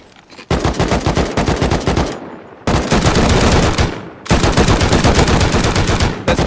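Rapid machine-gun fire in a Fortnite-style battle royale creator event tears out in three long, loud, close bursts, separated by short pauses.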